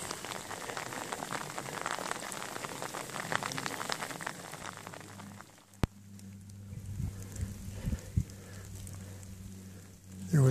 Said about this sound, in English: It's a good steady rain, been coming down for an hour